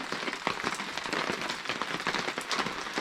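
Heavy outdoor rain pours steadily at a haunted house build site, a dense, even hiss with scattered sharper drip impacts throughout; no speech.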